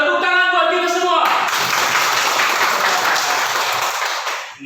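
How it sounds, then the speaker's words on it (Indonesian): Classroom applause from a group of children, a dense, loud burst of clapping that follows brief speech and fades out at the end. "tepuk tangan buat kita semua"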